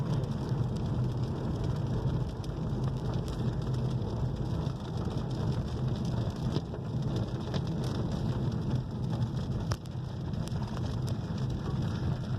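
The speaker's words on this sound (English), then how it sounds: "We're hoping the rain clears up in an hour or two's time." Heavy rain during a storm in the UK, a dense continuous hiss of downpour drumming on a surface, steady and loud throughout with no voices.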